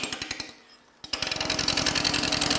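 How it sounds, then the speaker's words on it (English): A wood lathe turning an irregular burl piece held between centers, producing rapid rhythmic thumps as the gouge hits the uneven spinning surface; a brief pause, then the chattering cut resumes, loud and close. "we're carving on the wood as it's spinning in the lathe"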